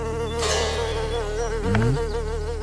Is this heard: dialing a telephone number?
no